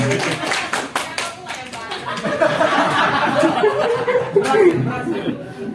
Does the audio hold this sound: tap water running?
no